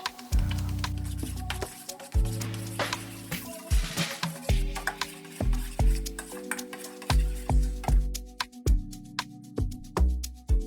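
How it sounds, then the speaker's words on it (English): A spoon stirs a yogurt and mustard mixture in a bowl, making repeated close scraping swirls and clinks against the sides in uneven bursts, with short pauses between strokes. "after mixing it nicely"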